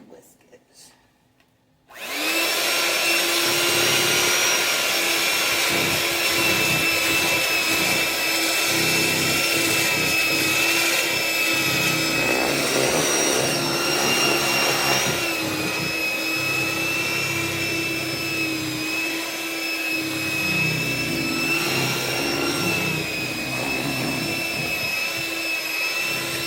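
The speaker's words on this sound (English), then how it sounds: "let's go ahead and whisk it" Electric hand mixer whisking banana bread batter, starting abruptly after a quiet moment and then running as a steady, loud high-pitched whine with faint rattling against the bowl.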